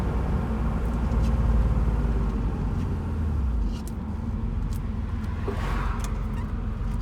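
A 1991 Porsche 911 Carrera 2 Cabriolet (964) drives along with a steady low engine rumble from inside the car; the drone eases to a lighter level partway through, as if after a gear change.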